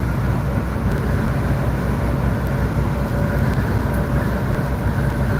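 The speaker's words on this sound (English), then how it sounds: "I think that's all we're gonna hear is just wind noise." Steady, loud wind rush through cracked truck windows while driving, a dense continuous low roar with road rumble and no voices, holding even throughout.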